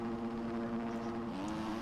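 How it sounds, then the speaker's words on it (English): Motocross bikes at the start of Moto 2 in round 3 of the MXL World Championship, a steady droning engine hum held at revs, moderately distant and continuous with no talk. "Revs are up here for Moto number 2."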